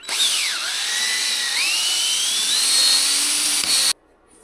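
A buffing wheel polishes a beat-up Harley-Davidson Sportster fuel tank, a loud, steady high-pitched whine that dips and swoops in pitch as the workpiece is pressed against the wheel, then stops abruptly near the end.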